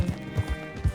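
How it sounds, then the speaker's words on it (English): Horse hooves clip-clopping at a walk in Red Dead Redemption 2, a quick uneven run of close, soft thuds. "Hitch your horse up here."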